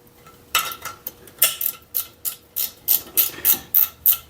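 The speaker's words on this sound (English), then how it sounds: "I just got to take and tighten up the fan on here now." Tightening the fan on a 1940 Ford 9N tractor gives a rapid series of close metallic ratchet clicks, about a dozen crisp strokes in a steady rhythm with no talk.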